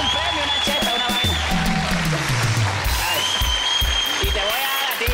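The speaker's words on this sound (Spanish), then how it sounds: "Un aplauso para ellos." Studio audience applause on a Colombian television variety show, a steady sustained clapping wash under a host and guest talking over it throughout.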